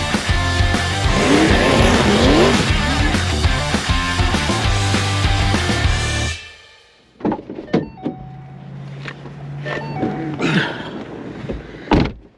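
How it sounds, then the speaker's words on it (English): A supercharged 5.0L V8 2013 Ford Mustang Saleen S302 Yellow Label roars loudly under hard acceleration for about six seconds, then cuts to near silence, followed by scattered clicks, thumps and a lower rumble. "now we're gonna go for a test drive in that gorgeous 2013 S302 yellow label Mustang"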